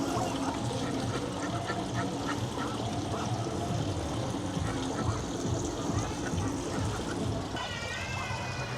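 Ducks let out of their pen quack repeatedly in a lively, close flock chorus, mixed with other animal calls and people speaking over the scene.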